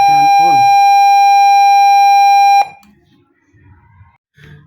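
A loud, steady high-pitched tone from a 12-volt piezo buzzer in a flame detector circuit holds for a couple of seconds, then cuts off abruptly, followed by quiet rustling and faint movement.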